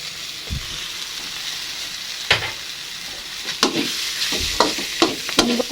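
Oncom fries in a pan with a constant sizzle while a spatula stirs and scrapes it in several sharp bursts that grow more frequent toward the end.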